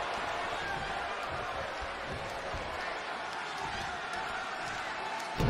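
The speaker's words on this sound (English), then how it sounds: "I don't remember the last time I heard a crowd as loud as this one in Raleigh" Roaring arena crowd noise in the WWE 2K20 wrestling video game, a broad constant wash at a Raleigh event with thuds and impacts scattered through it.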